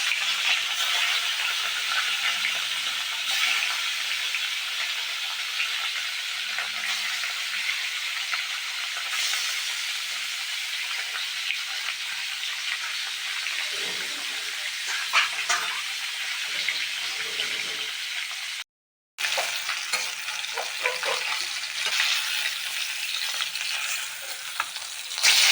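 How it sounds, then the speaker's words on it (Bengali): Rohu fish pieces frying in hot mustard oil in a kadai, a steady loud sizzle and hiss with occasional spatters and crackles, one brief gap of silence partway through, no talking. "আমি কড়াইতে সর্ষের তেল দিয়েছি। তেলটা গরম হয়ে গেলে মাছগুলো আমি একে একে ছেড়ে"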